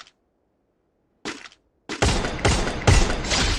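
A shooting video game fires a headshot, heard as a short burst of loud, sharp gunfire cracks after silence and then sustained rapid shots near and forceful, without any voices.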